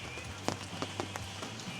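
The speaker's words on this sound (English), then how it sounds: "It wasn't meant to rain today." Rain falls steadily over an outdoor spot in the Barrington Tops, a broadband wash with scattered nearby drop taps and a low steady hum underneath.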